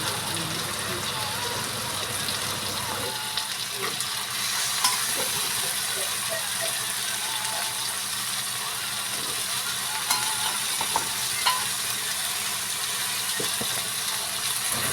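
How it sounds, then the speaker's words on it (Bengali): Boiled chickpeas drop into a pan of fried spice masala for ghugni, followed by steady stirring with a spoon scraping the pan, light sizzling and occasional clinks close by. "মশলা কষানো হয়ে গেছে, এখন দিয়ে দেবো এটার মধ্যে সিদ্ধ করে রাখা ছোলা।"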